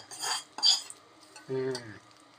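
A utensil scrapes and stirs cooked rice through a seasoned tempering in a pan in a few short strokes, with a brief metallic ring near the end.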